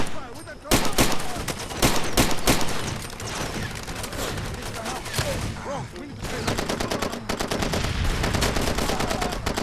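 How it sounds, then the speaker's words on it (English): Dense, continuous gunfire from the video game Far Cry 2: rapid machine-gun bursts and sharp shots crackle almost without pause, loud and close, with explosive booms mixed in. "Who's shooting at me?"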